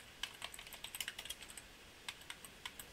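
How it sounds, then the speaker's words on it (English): Quiet computer keyboard typing of CSS code, with irregular bursts of soft key clicks, a cluster of rapid strokes followed by a pause and then a few more scattered taps, heard close and alone. "I'm just typing it in"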